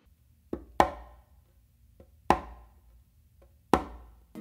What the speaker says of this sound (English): with your non-dominant hand, you're going to do like a tap or a ghost note on the conga.